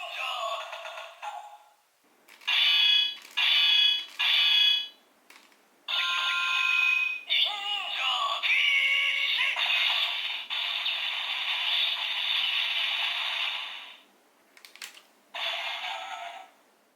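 A DX Sentai Ring toy from Gozyuger, a Liveman ring, gives off electronic sound effects: bright beeps, chimes and synthesized tones in short bursts and longer stretches, with some voice-like announcements mixed in.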